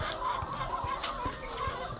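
Chickens cluck in a chicken coop on a rural farm in St. Ann, Jamaica, with repeated soft clucks and low calls close by over a steady outdoor background, no talking.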